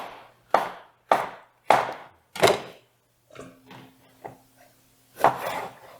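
A knife chops tomato-pasta ingredients on a cutting board with four steady, evenly spaced thuds, then a few lighter irregular cuts and a final heavier chop, close and clear with no talk.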